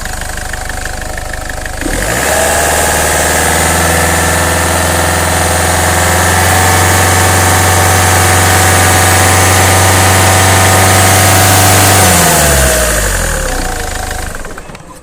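A car engine revs up from about two seconds and holds a steady, loud raised speed of roughly 2000–3000 RPM for around ten seconds, then drops back toward idle near the end. There is no talking.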